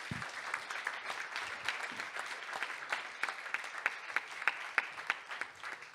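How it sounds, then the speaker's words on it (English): Audience applause at an integrative medicine summit, a dense, steady patter of many hands clapping throughout, fairly even in loudness with scattered sharper claps. "Give them a round of applause one more time"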